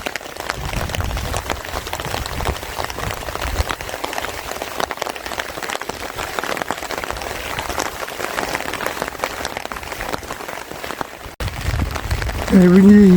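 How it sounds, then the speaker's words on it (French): Heavy rain pours down steadily at a campsite beside a monument in France, a dense, even hiss drumming on surfaces throughout, with a brief voice near the end. "il pleut à verse"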